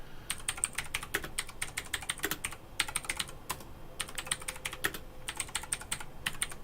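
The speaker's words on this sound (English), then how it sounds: "I do have a mechanical keyboard" Mechanical computer keyboard being typed on: bursts of crisp, rapid clicking keystrokes with brief pauses between runs, close and fairly quiet, no voices.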